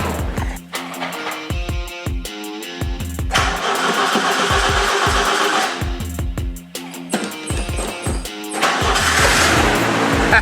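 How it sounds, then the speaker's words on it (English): An old inline Ford engine cranks over on a freshly charged battery, the starter chugging in rapid rhythmic bursts with short pauses between attempts, loud and close, with a brief rougher roar as it nearly catches. "Let's see if we'll get it to turn over before we start dumping fluids in it."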